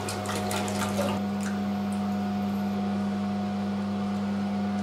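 Water running in to fill a toilet cistern fitted with a Hippo water-saving bag, a steady rushing flow with a constant humming tone underneath, close and fairly loud throughout.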